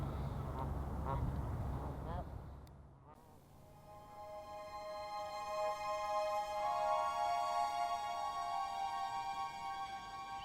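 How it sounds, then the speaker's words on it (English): Canada geese in Lethbridge give a few honking calls early on, under someone speaking, before a background of steady tonal hum takes over. "the Canada goose."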